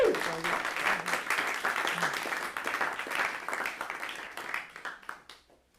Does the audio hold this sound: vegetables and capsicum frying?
no